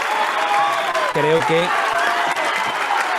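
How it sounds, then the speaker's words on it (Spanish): Recorded applause played as a sound effect on a Spanish-language panel broadcast: a steady wash of clapping runs the whole time under a voice speaking over it. "yo te intentaba poner estos aplausos, ¿no?"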